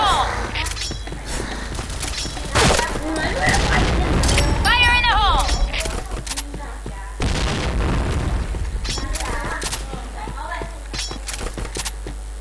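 A grenade detonates in the video game Point Blank, a loud boom in the middle of busy gunfire and clattering effects, with a player talking over the action.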